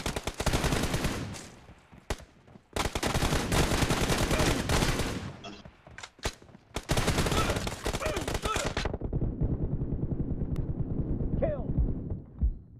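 Gunfire in PUBG Mobile: loud, dense bursts of automatic fire close by, broken by brief pauses, then quieter game noise with a voice talking.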